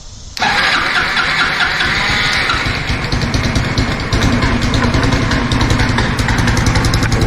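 A Honda Helix scooter engine cranks and catches after a brief pause, then settles into a steady, loud, close-up running hum with a slight rhythmic pulse.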